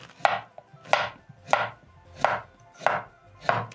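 Potatoes chopped with a knife on a board, six evenly spaced, crisp thuds close up about every two-thirds of a second, with nothing else heard.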